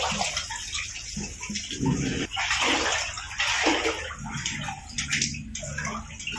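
Floodwater from a swollen river rushes into homes as a steady, loud, churning flow with gurgling surges.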